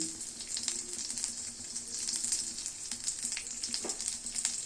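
Whole spices, cinnamon, cumin and black peppercorns, sauté in hot oil in a kadhai on a gas flame, giving a soft, continuous sizzle with quick pops and light ticks throughout.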